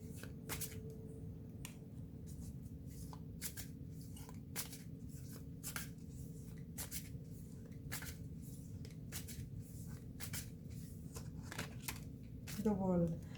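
Tarot cards are shuffled steadily, with crisp rhythmic riffles and flicks repeating up close throughout, and a voice briefly speaking near the end.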